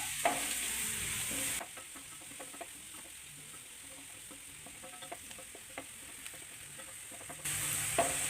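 Dried red chillies stir-fried in a pan for banana flower thoran give a soft steady sizzle, with light scraping and tapping stirring strokes close by, and a louder hiss at the start and end.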